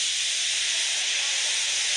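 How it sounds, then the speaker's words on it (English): A steam locomotive lets off steam, a steady, loud broadband hiss that holds evenly throughout with no voices. "He just let off steam feebly."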